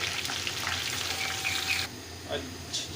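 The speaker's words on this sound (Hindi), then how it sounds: "चिकन पकौड़ा जो है कुछ मैंने निकाल लिया और कुछ फ्राई हो रहा है" Chicken sesame pakoras frying in oil give a close, loud sizzle that stops abruptly partway through, leaving a few quieter clinks and faint kitchen sounds.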